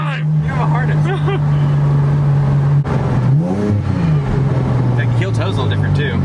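Engine-swapped Nissan 370z revving during heel-toe downshifts, a steady engine drone that briefly blips up and falls back, with a passenger and driver talking inside the car throughout.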